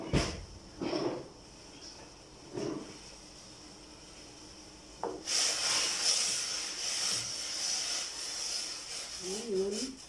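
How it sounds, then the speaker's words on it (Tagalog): Sinigang broth with tilapia, tomato and salt at a rolling boil in a pot, giving a steady hissing, bubbling roar that swells after a few brief knocks and scrapes and runs continuously near the microphone. "kumukulo na siya."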